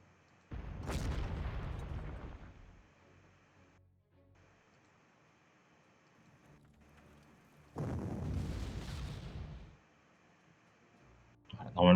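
Artillery bombardment in the Panzer Corps strategy game, two heavy booming explosions a few seconds apart, each rolling out for about two seconds over a faint background hum, with another burst starting at the very end.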